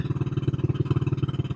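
A 1985 Honda Big Red 250ES three-wheeler's small engine idles with a steady, rapid chugging pulse, close and unbroken, with the dusty machine running on its own and no one talking.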